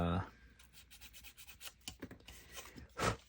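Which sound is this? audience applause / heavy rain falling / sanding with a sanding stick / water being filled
sanding with a sanding stick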